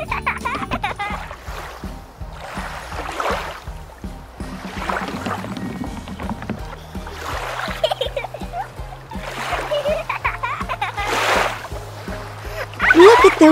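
A toy doll splashes in water in repeated sloshing bursts, close and moderately loud, with music playing underneath.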